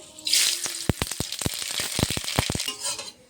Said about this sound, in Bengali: এখানে ফোড়নে দেবো শুকনো লঙ্কা আর সর্ষে